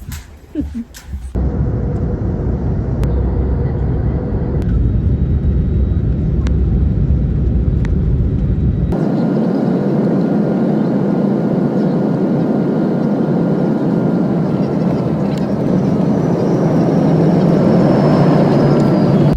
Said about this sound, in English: Beautiful landing by our pilots, ladies and gentlemen.